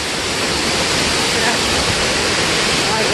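A jet of water pours from a waterfall with a dense, steady rushing roar, loud and close, continuing unbroken for a few seconds.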